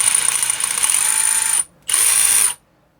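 Loud, continuous high-pitched whir of the gear train of a Milwaukee SHOCKWAVE Impact Duty 3/8-inch threaded rod nut runner, running, briefly stopping, then spinning again before cutting off.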